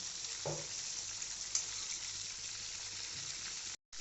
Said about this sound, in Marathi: तर पूर्ण झिंगे फ्राय करून घेऊ